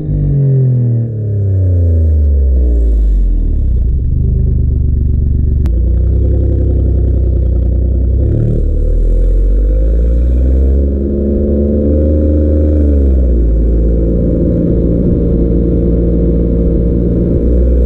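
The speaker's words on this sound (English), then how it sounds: "But how well does the Nettuno engine do?" A 2024 Maserati GranTurismo Modena's Nettuno V6 engine and exhaust rev repeatedly up and down, loud and close, with rising and falling pitch sweeps and crackles between revs.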